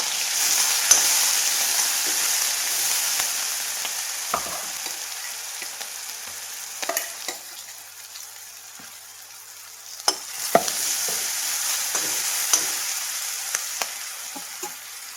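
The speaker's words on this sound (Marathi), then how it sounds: "फोडणी ना खमंगाशी भाजून घेतलेली आहे" A tempering of cumin, crushed garlic and green chilli fries in a pan, a steady close sizzle with occasional clinks and scrapes of stirring that swell again toward the end.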